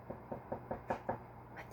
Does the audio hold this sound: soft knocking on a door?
yes